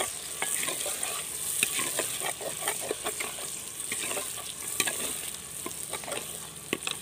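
Tomatoes sizzling as they fry in a pan for Punjabi dhaba-style fried dal mash, with steady loud hissing broken by frequent sharp clicks and scrapes of stirring.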